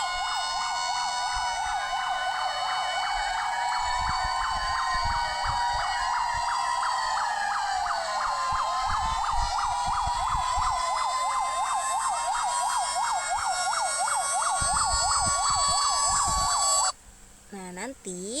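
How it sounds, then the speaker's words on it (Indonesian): A loud fire engine siren wails continuously, its pitch rising and falling in steady sweeps, then cuts off abruptly near the end. "Bunyi dari sirine pemadam kebakaran adalah sebagai berikut."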